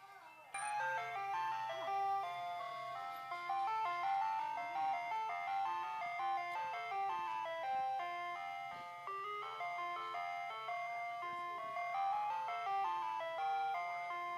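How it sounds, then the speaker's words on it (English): An ice cream truck plays its jingle, a repeating chiming melody that runs steadily from start to finish at moderate volume, somewhat distant, with no talking over it. "Ice cream truck."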